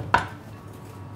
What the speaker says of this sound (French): La chair, bien sûr, on ne la jette pas. On va légèrement la concasser.